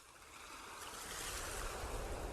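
Ocean waves and wind wash around a ship sailing at sea, a steady broadband roar that swells gradually louder, with no voices.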